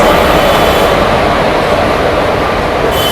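Inside a first-class ICF coach on the Malabar Express, the train runs with a heavy, continuous low rumble and rattle of wheels on track, loud and steady throughout, with a faint airy hiss above it.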